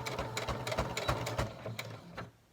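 A sewing machine back-stitches on a fabric mask, letting out a fast, steady mechanical chatter of needle strokes that slows and stops near the end, close-up and alone.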